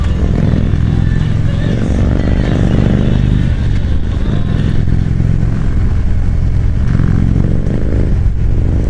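A 2017 Harley-Davidson Road Glide engine rumbles loudly nearby on a road in Jeju, with deep throbbing revs rising and falling over continuous road noise.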